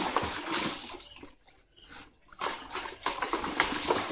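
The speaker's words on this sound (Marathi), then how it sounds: "उठल्या उठल्या लगेच पाणी खेळायला लागली." A small child splashes and plays with water from a tap in a tub at home, with uneven sloshing bursts up close that pause briefly and then pick up again.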